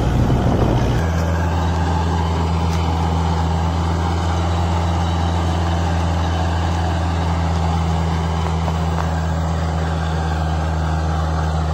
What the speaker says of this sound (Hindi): चलो आज तो हमने इसके पीछे एरो खिंचवाई